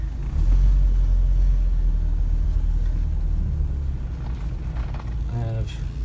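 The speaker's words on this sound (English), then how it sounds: "I drive the Ford Pinto. No power steering." A 1979 Ford Pinto without power steering is driven, its engine and road noise forming a heavy, steady low rumble inside the cabin, with someone talking over it.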